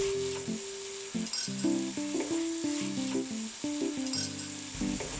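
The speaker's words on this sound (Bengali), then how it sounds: "একটু নেড়ে চেড়ে ঢেকে আমি 2 মিনিটের মতো এটা কষাবো।" Vegetables sizzle steadily as they are stirred and fried in a pan for a healthy mixed vegetable dish, a soft hiss running under tonal background music.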